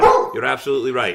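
A dog barks in short yips in the background of an evening podcast recording, overlapping with someone speaking.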